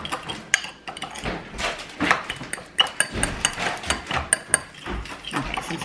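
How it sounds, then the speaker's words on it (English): A fork stirring a pasty lime-juice mixture in a dish: rapid clinking and scraping against the dish, with sharp metallic taps scattered throughout, close and fairly quiet, continuous and irregular. "I'm gonna stir this up really good, really well"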